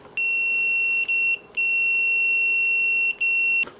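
Loud, steady high-pitched continuity beeps from a BSIDE S40 budget multimeter at maximum volume, sounding in several long tones with short gaps between them as the probes touch, with no talking.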